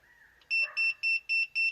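A C6 Audi A6 alarm chirps after the driver's door is locked: five short, evenly spaced electronic beeps, loud and close, following a faint tone.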